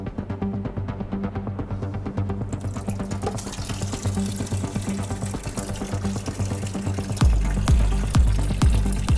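Litres of water pour and drain out of a Subaru WRX STI during reassembly, a steady splashing, gurgling flow close by that swells louder near the end, with no talking.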